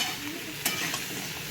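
Spinach with radish and flat bean pieces frying in a pan over low gas as a spoon stirs them, giving a steady close sizzle broken by a couple of sharp scrapes.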